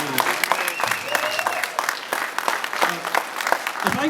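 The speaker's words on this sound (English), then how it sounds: "Give a round of applause to Megan, everybody." Audience applause at a movie premiere Q&A, a lively sustained round of clapping from a crowd, with faint voices underneath.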